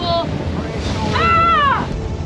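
Gusty wind roars across a sailboat in high winds on open ocean with waves washing below, loud and close, and a voice calls out briefly in the middle.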